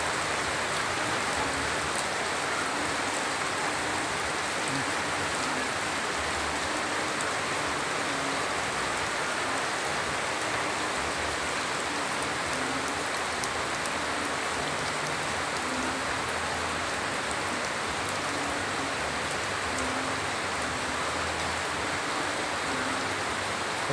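Heavy, steady rain pours down outside a house during a flood, a dense continuous hiss with pattering drops and rushing water, loud and unbroken with no voices.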